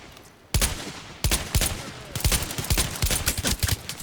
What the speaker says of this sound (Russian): Блин, как здесь стрельба прям реалистичная